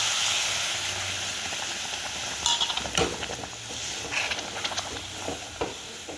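About one and a half cups of milk go into a sizzling spice masala for the eggplant dish begun sundari, producing a steady hiss and frying crackle, followed by scattered stirring and pan clinks.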